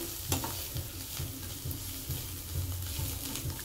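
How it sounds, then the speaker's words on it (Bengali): Chopped green chili, garlic, carrot and capsicum frying in olive oil in a pan with pasta, a steady close sizzle broken by regular scraping strokes of a metal spatula. "এখন আমি এটা অলিভ অয়েলে রান্নাটা করছি পাস্তাটা"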